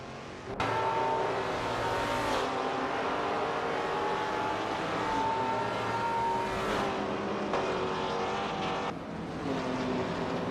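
Race cars roar around a track in a Le Mans racing video game, a loud continuous engine drone with pitch rising and falling as cars shift gears and pass.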